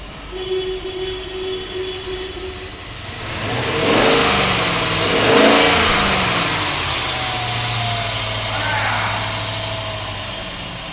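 A 2002 Dodge Durango with a 4.7 liter engine and automatic transmission idles, then revs up in a couple of swelling roars before settling back to a steady idle, close and loud.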